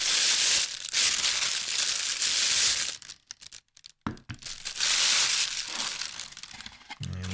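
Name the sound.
rustling crumpling packaging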